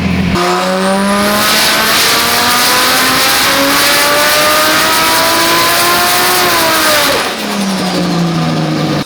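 Toyota Chaser with a 1JZ engine screaming at full throttle on a dyno, a loud sustained rev climbing steadily in pitch for several seconds, then dropping sharply and settling back to a lower drone.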